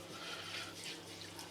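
Water poured into gravy while cooking, a steady, quiet hiss of running liquid with no breaks and no talking.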